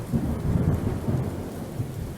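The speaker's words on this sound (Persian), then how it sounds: "گوش کن، صدای باران است." Steady rain with low rumbling thunder rolls throughout, a dense continuous wash that stays loud and close with no voices over it.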